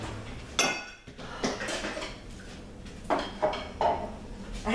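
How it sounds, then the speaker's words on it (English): A black soap mixture with a tablespoon of fennel is stirred in a pot, giving several scraping, knocking spoon-against-pot sounds in uneven bursts, close and moderately loud, with no talking. "So now let's stir it up"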